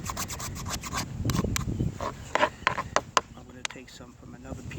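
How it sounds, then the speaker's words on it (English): A knife takes shavings off a piece of premium fatwood, close rasping scrapes in short strokes, some sharp clicks, while someone talks over it. "Some from another piece of really serious premium Fatwood and take some shavings off."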